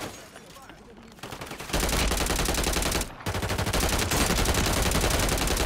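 Gunfire in Call of Duty Warzone, starting as quieter shots before a loud, sustained burst of rapid automatic fire, a brief pause, then another dense stretch of close, continuous shooting.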